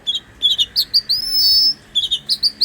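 A kacer, or magpie robin, sings loudly and close: rapid bright chirps and whistled notes in quick bursts, with one longer sustained trill in the middle, and no voices.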